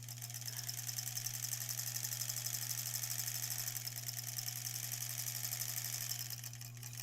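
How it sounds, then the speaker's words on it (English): A sewing machine runs steadily, stitching quilt scraps for granny squares with a continuous close mechanical hum and rapid needle chatter that lasts throughout without a break. "We will just sew sort of straight and trim off the excess."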